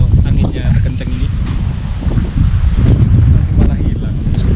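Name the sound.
strong wind blowing on a hillside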